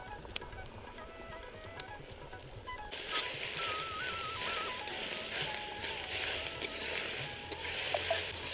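Onion sizzles in hot oil in a pan while cooking a spicy seven-lentil amti, starting quiet with a soft stir, then a steady loud hiss and crackle of frying that continues to the end.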